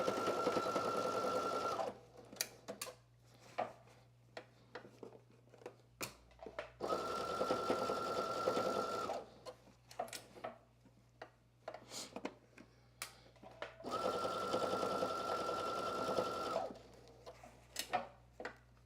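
A home sewing machine stitches the top of a McCall's 8386 spring top to its lower sleeve in three steady whirring bursts, with a few soft ticks and clicks in the pauses between them. No voices are heard.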